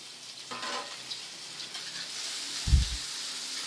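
Onion and tomato softening in a pan, giving a quiet steady sizzle with a short thump partway through as they are stirred; no talk.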